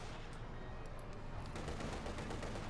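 Heavy machine gun fire in the Company of Heroes 2 strategy game rattles in a dense, continuous burst amid battle noise, steady and fairly loud throughout.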